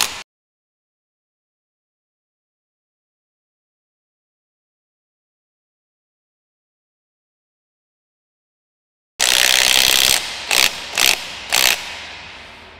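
A ratchet drives a 22 mm impact socket on gearbox bolts of a JBS Wide Body Beater. After a long silence, a loud, close burst comes, then three quick clicking pulses that trail off.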